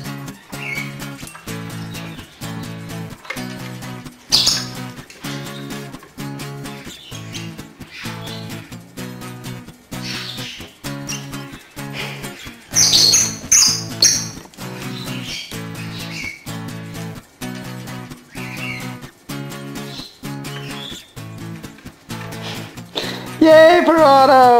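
A pet bird makes rhythmic, repeated chirping calls close by, steady pulses with a few louder squawks and scratchy bursts mixed in.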